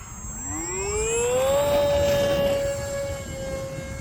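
The electric motor of a HobbyZone Aeroscout RC plane spools up for takeoff, rising into a loud, sustained whine that holds steady and starts to fade as the plane moves away. Outdoor wind noise runs underneath.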